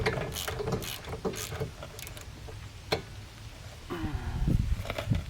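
Screws being fastened with hand tools while sports brakes are installed on a Cadillac CTS, giving irregular mechanical clicks and ratcheting taps up close, with a few sharper knocks and a low rumble near the end.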